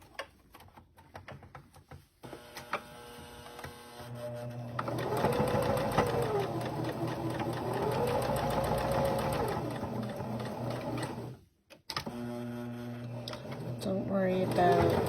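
A sewing machine backstitches the seam of a fabric scrunchie, its needle chattering in a fast mechanical run that rises and slows, with brief stops and a person talking in between.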